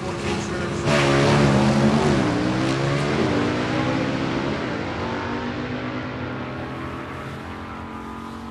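A gasser drag race car on a qualifying run at the Southeast Gassers Association Spring Nationals, its engine roaring loud then fading into the distance as it pulls away, with crowd or announcer noise underneath.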